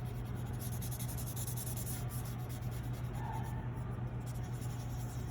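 A pencil and blending stump shading lips on paper, making a steady, close scratchy rubbing with soft back-and-forth strokes over a constant low hum, with no talking.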